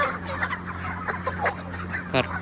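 Chickens clucking and squawking close by as birds are grabbed by the legs during a catch at a poultry farm on the fortieth day, a steady low hum underneath and a sharper burst of squawks near the end.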